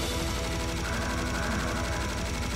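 Rapid, rhythmic cannon fire in the first-person shooter Serious Sam HD: The Second Encounter, a dense run of repeated booming shots mixed with game noise, continuous and moderately loud with no voices.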